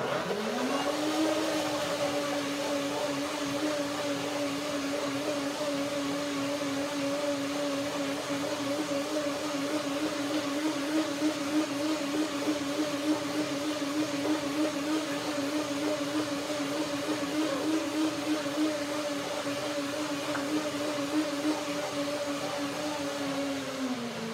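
A blender runs continuously, blending pineapple, strawberry and cherimoya cream, a steady loud motor whir with a slight rise in pitch at the start and no talk over it.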